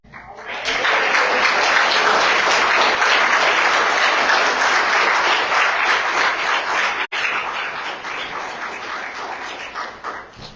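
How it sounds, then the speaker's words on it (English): An audience at a State of the City 2023 civic event claps steadily and loudly for about ten seconds, a dense sustained wall of hands with a brief cut near the end, no talking over it. "You guys ain't clapping hard for me."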